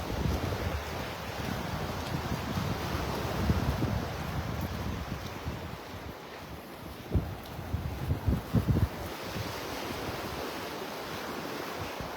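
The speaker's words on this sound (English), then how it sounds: "A little breezy up here." Steady wind buffeting the microphone on a beach at Delnor-Wiggins in North Naples, a continuous broad rush mixed with surf, with a few louder gusts and thumps toward the end.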